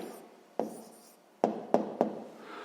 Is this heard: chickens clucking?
no